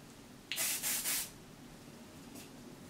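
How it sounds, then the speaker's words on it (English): Hair spray hisses in a few short bursts aimed underneath curls on a frontal wig install, close by, the main bursts grouped near the start and one shorter spritz trailing after. "I more so spray underneath so I can have the volume that I want."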